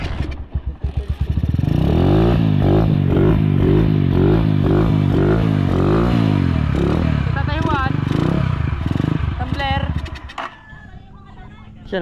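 Motorcycle engine sputtering into life, revving in loud pulsing bursts close by for several seconds and then dying out, with voices talking over and after it.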